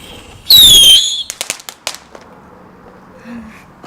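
Firecrackers going off close by: a shrill whistle, then a quick burst of sharp cracks that fades into quiet.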